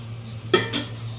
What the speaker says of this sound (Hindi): बर्तन मांजत हूँ संगवारी हो ये दे